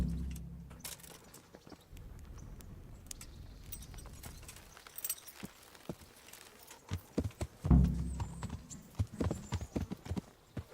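Horse hooves clip-clop in uneven, close steps in the medieval game Kingdom Come: Deliverance, sharp knocks growing busier toward the end over soft ambient background.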